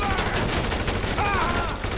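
Blaster gunfire erupts in GTA 5 Online, rapid overlapping shots in a dense, continuous volley with no pauses, loud and close, with scattered sharp electronic tones on top.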